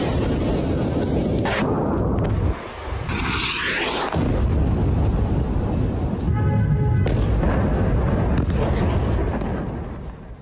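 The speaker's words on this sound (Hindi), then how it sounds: "लेबनान में इजराइल की फिर से भीषण बमबारी।" Israeli bombardment in Lebanon, heard as a continuous heavy rumble of explosions and blasts, loud and broad, with a brief lull partway through before fading at the end.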